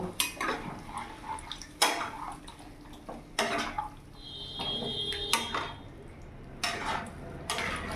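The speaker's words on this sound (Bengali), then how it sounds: "এবার ভালো করে মিশিয়ে নেব।" Spiced chicken mixed by hand in a metal bowl, with irregular clanks and scrapes against the bowl, wet squelches and a small splash of water, fairly close.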